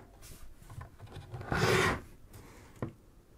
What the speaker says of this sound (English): if you unscrew until you hear that click or notch, that means you've found the thread